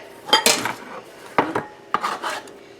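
A knife chops a garlic and butter mixture on a board, with a few separate bursts of close chopping and scraping strokes, no talk.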